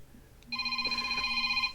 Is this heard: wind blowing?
no